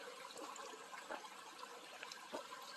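A mountain creek flows steadily, a soft continuous rush and trickle of water with faint splashes, quiet and unaccompanied by voices.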